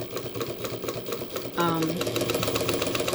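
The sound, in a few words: sewing machine running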